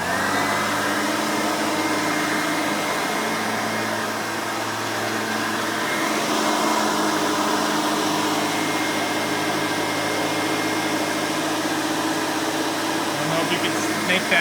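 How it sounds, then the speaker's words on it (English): A Hoover Elite 350 upright vacuum cleaner, a lower-amperage model replica, runs steadily close by with a loud whirring motor drone and a high whine that holds constant throughout. "it's pretty loud when they're running, but since this is a lower amperage model, it's not as loud as if it were with a 7 amp"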